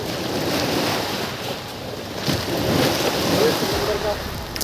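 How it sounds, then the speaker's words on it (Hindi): Sea waves wash onto a shore at Daman, a broad rushing roar mixed with buffeting wind noise on the microphone, swelling louder midway before easing slightly. "यहाँ पर देखेंगे लहरें,"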